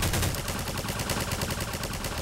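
Automatic turret fire in a Garry's Mod horror map, a rapid continuous burst of loud, dense gunshots with no pauses.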